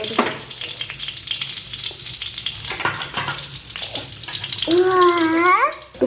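Ginger frying in white cooking oil in a pan, a steady loud sizzle throughout with a few utensil knocks, and a high whistling tone rising near the end.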